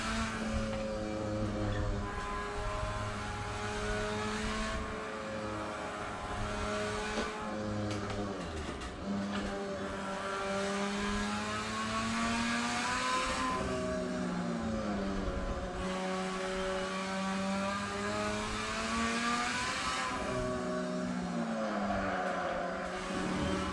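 Race car engine in Assetto Corsa revving steadily and loudly through the gears, a sustained harmonic drone rising and falling in pitch with brief dips at shifts, continuous throughout.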